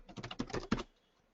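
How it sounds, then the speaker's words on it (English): A computer keyboard being typed on, roughly a dozen quick close keystrokes in a burst lasting under a second, then quiet. "in your description window you can just type your employee file"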